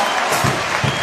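A crowd cheers and claps at a women's para ice hockey world championship game between Australia and the USA. The applause is dense and steady through the whole short burst, with a few louder swells.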